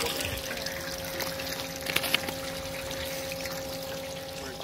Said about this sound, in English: you can hear the water flowing through.